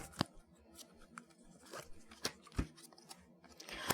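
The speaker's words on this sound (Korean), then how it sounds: "카드 뽑아드리도록 하겠습니다" Tarot cards are shuffled and drawn by hand, making sharp irregular snaps and soft papery rustles close up in a quiet room, with no talking.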